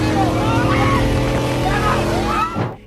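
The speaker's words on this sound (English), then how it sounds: "they were off-roading and got caught in a flash flood" An off-road vehicle caught in a flash flood, its engine roaring loud and steady with rushing water around it, then dropping away abruptly at the end.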